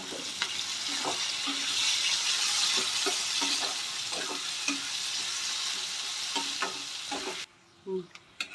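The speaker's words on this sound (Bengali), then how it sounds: "পেঁয়াজগুলোকে গোল্ডেন ব্রাউন পর্যন্ত আমি ভেজে নেব" Thinly sliced onions fry over a low gas flame toward golden brown, a dense continuous sizzle broken by soft spoon taps while stirring, then the hiss abruptly drops away near the end.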